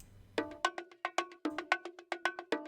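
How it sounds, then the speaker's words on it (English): An amapiano drum pattern in FL Studio Mobile, a quick run of bright, woody, cowbell-like percussion hits in an even, syncopated rhythm, starting after a short low rumble and playing clearly with no voice. "It's gonna add in an amazing drum pattern to our beat,"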